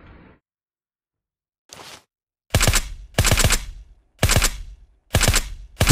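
Pistol shots fired in the SurrounDead video game: one faint early report, then a rapid series of five loud, close gunshots with sharp attacks and short tails, separated by brief silences.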